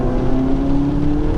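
Tuned VW MK7 GTI accelerating in third gear from about 3000 rpm, a steady droning engine note with a rising hum heard from inside the cabin, brief and fairly loud, with no talking.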